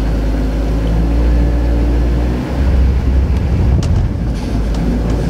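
A 2002 Chevy Avalanche Z71 4x4 with a 5.3L V8 idling after a cold start in freezing weather, a loud steady low rumble close to the microphone with some wind buffeting, briefly dipping midway.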